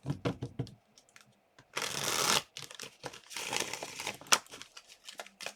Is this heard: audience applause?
no